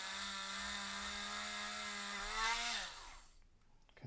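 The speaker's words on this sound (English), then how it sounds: "we're going to drill straight down this hole" A high-speed rotary burr bit drills down into a hole in a plastic toy, a steady loud whine that climbs in pitch, surges briefly as it bites, then spins down and fades, with no talk.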